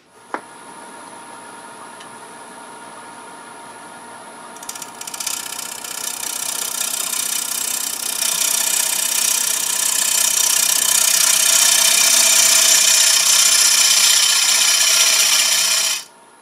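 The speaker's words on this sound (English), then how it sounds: "So I'm going to slope that rim down just a little bit using bowl gouge." A bowl gouge cuts the rim of a wooden platter spinning on a lathe: steady motor hum at first, then a loud, bright scraping and hissing cut that builds and holds until it stops abruptly.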